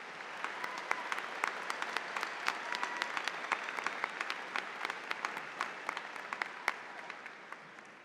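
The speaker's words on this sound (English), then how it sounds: "Let's congratulate all of these students with a round of applause" A large crowd at a university commencement ceremony applauds steadily, dense clapping filling the space with a few sharper claps standing out, sustained throughout.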